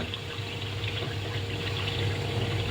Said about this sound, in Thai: ปล่อยน้ำมาแล้ว เปิดน้ำไหลเปิดน้ำทั้งอ่างเลย